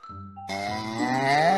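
A toy cow gives a synthetic moo, a short tone first and then a loud, sustained, rising bovine call that swells toward the end, heard alone with no talking.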